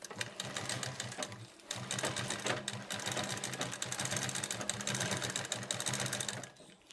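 Sewing machine stitching a Rajputi kanchli blouse, a steady rapid mechanical chatter running in bursts with a brief pause near the start, fairly close and quiet, no talk.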